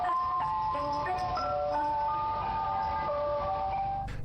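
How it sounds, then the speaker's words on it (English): Eerie, warbling ice cream van chime melody that plays daily through an apartment complex, sustained tonal notes stepping up and down, loud and continuous without talk. "this demonic ice cream van shows up every single day at his apartment complex"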